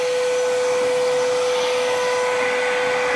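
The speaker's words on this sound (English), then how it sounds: "we're just gonna suck that through with the old vacuum machine right here" A vacuum machine pulls a pull-string bag through electrical conduit during a 200-amp service install, giving a loud, constant whine with a steady pitched tone and rushing air, unbroken and close.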